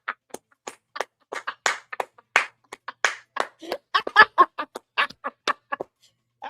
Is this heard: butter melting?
no